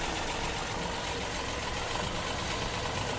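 Tractor engine idling in Farming Simulator 2017, a steady broadband rumble holding at an even, fairly loud level with no break.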